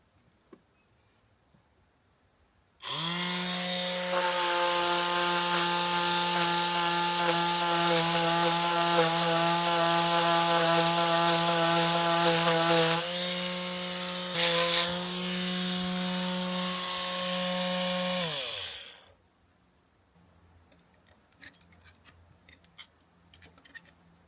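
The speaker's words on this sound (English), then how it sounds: "I'm going to start sanding a bit" A power sander works on wood aboard a narrowboat, a loud continuous whirring drone running for about fifteen seconds with a brief dip partway through, then stopping into quiet.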